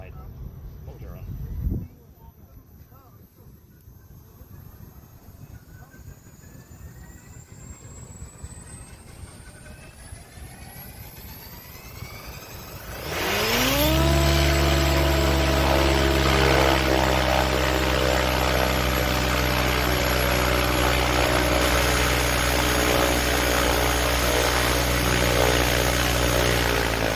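An RC helicopter's electric motor, run by a Vbar Neo governor and a HW V4.1 Platinum ESC, idles quietly before sharply spooling up into a loud, steady high-pitched whine with a strong harmonic hum that holds to the end.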